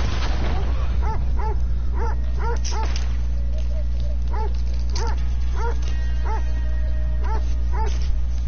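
Video game dog yelping and whimpering after being shot, a steady series of high, short cries repeating for several seconds over a constant loud low rumble of game sound.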